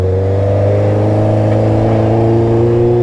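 Steady loud engine drone from a Honda CB650R motorcycle, the four-cylinder holding a smooth, rich tone with a slight rise in pitch, recorded close with no voices.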